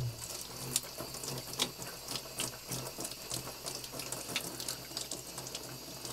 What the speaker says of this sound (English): Again, not coming off no matter how hard I scrub.